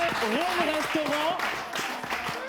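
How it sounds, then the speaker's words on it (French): Audience applause rustles beneath someone speaking in French, a steady patter of clapping that stays under his voice throughout. "Merci d'applaudir quand même"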